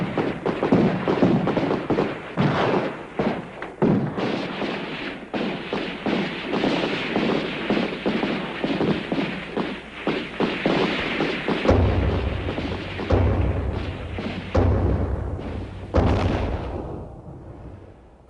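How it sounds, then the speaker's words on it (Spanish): A long stretch of dense, rumbling gunfire from the 1937 Ponce massacre in Puerto Rico, with bursts and booms overlapping continuously, loud and chaotic, fading out at the end. "Inmediatamente suena un disparo"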